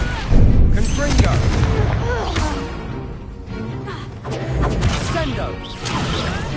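Fiery spell blasts and crashing explosions in the Hogwarts Legacy video game, heavy booming bursts layered with battle noise over several seconds, with a voice shouting spell names throughout.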